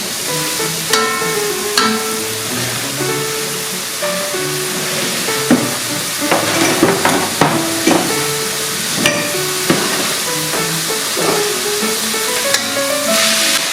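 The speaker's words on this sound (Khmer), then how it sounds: "យើងកូរឆាជាមួយសាច់យើងហ្នឹងឲ្យវាឆ្អិនល្អតិចមក" Dried shrimp and meat stir-fried together in a pan give a steady sizzle and fry, broken by repeated scraping and clanking of the utensil against the pan, with no talking.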